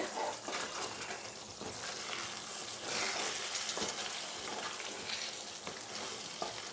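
Chicken sukka sizzles and fries steadily in a pan over the flame, with a constant close crackle and occasional stirring scrapes, and no voices.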